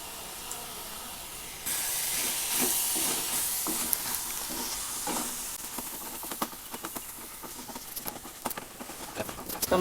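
Spice masala for vadakari sizzles and hisses in a hot pan, a steady frying hiss with scattered sharp crackles and stirring taps, no talk.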